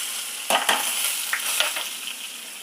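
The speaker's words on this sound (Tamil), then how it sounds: "வெங்காயம் நல்லா பொன்முருளாக வதங்கணும்" Onions with curry leaves sauté in hot oil for sambar, a continuous bright sizzle broken by a few sharp scrapes of a stirring spoon, with no voices.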